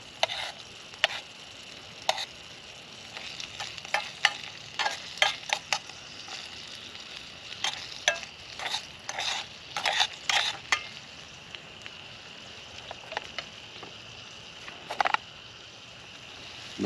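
Eggs with jalapeno and cheese fry in a metal canteen cup outdoors, a soft steady sizzle broken by irregular sharp clinks and scrapes of a utensil against the cup.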